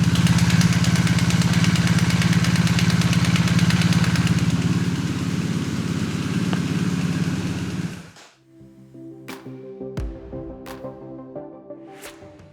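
A BMW R1250R motorcycle engine idles loudly and steadily with a rattling timing chain tensioner, then cuts off about two-thirds through, leaving only faint clicks and taps afterward.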